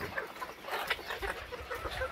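Village laying pullets cluck and chatter softly while being fed moistened feed, a scattered run of short calls at moderate distance with no talking.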